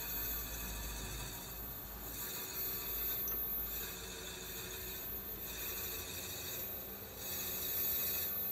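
A quiet, continuous whirring drill grinds into wood, its pitch pulsing slightly as the bit bores through, making a wine bottle stopper.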